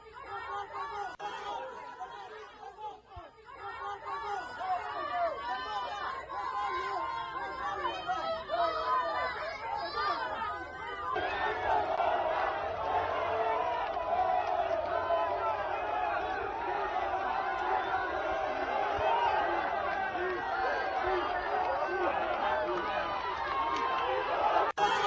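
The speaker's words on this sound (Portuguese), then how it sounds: "a torcida falando, chamando pelo nome do Vojvoda" A stadium crowd of football fans chants coach Vojvoda's name, a mass of voices in rhythmic unison that swells louder and denser partway through and continues at a steady roar.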